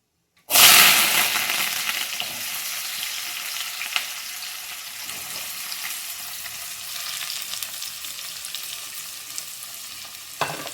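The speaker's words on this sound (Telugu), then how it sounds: "దీంట్లో ఉల్లిగడ్డతో పాటు కొంచెం కరివేపాకు కానీ వేస్తున్నా ఉల్లిగడ్డ టమాటా రెండు వేసేస్తా" Onions, tomato and curry leaves hitting hot oil in a pan, a sudden loud sizzle that settles into a steady frying hiss with light stirring, close and without talk.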